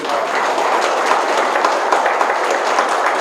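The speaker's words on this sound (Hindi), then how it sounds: "एक बार जोरदार ताली बजा दो आप।" An audience at a network marketing training session breaks into dense, continuous applause that holds steady and loud throughout.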